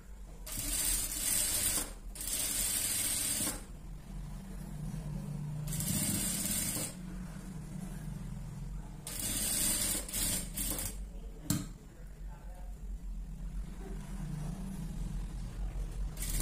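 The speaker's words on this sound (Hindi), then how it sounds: "अब हम सिलाई चलाना स्टार्ट करेंगे।" A sewing machine stitches along marked lines on a fabric sleeve, making a steady mechanical whir in several bursts separated by short pauses, up close with no talking.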